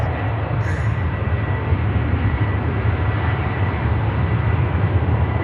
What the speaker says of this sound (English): Here goes the TUI to the Canary Island of Tenerife.